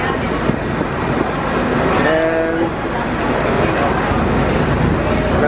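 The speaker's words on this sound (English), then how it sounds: "And here we go, and there goes a tram." A Walt Disney World tram rumbles past nearby with a steady, loud rolling roar and a brief high wheel squeal partway through. No one speaks.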